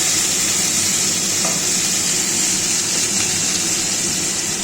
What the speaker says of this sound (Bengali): এরপরে দিয়ে দেবো আলু কুচি সাথে কাঁচা লঙ্কাও রয়েছে ওই দিয়ে একটু ভাজা ভাজা করে নিচ্ছি